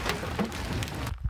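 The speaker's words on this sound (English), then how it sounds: "Chaos, it's hailing." Hail patters and rattles on a street in the Spanish town of Castro Jerez, a dense, close spray of small impacts ending in a sudden thump.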